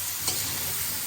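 Spice masala being stirred and fried in a pan on low heat for a prawn and cauliflower curry, a steady soft sizzle with a brief scrape of stirring, close and continuous, no voices.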